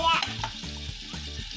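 Squid frying in hot oil, with sharp spitting pops and splatters over a steady sizzle, near and fairly loud, with a brief burst at the start. No one talks.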